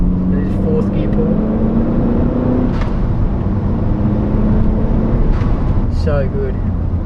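Gen 1 Mazda 3 MPS accelerating hard in fourth gear with a GFB Respons valve fitted: a loud, steady in-cabin engine drone climbing in pitch, with brief whooshes and chirps from the turbo system.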